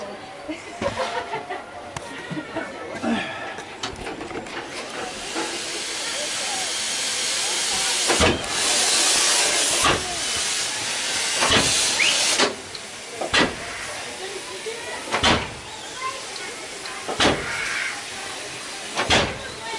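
Steam yacht swing ride at a steam museum, its steam engine giving sharp, repeated bursts of hiss at a regular rhythm over a broad background hiss, with people talking and exclaiming nearby.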